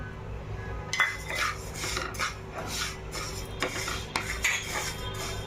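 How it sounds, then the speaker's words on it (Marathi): Raw rice is dry-roasted in a pan for Maharashtrian kalvacha dhebrola, with repeated scraping and metallic clinks of a spoon against the pan, close by and without speech. "मी तांदूळ भाजून घेते"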